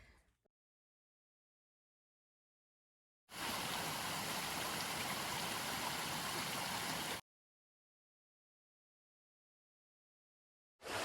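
A small brook flows along the Appalachian Trail in a steady, loud wash of water that plays for about four seconds, then cuts off, with a brief return at the very end.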